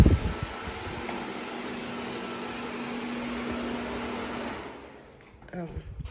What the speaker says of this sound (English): I should turn the fan off so you can hear me